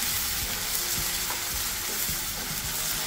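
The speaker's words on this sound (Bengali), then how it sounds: "এখন এটাকে সুন্দর করে একটু ভাজি, লাল করে ভেজে তারপরে রান্না করবো।" Prawns frying in a pan give off a loud, constant sizzle of hot oil, with soft, irregular knocks of a spatula turning them, close up and with no voices.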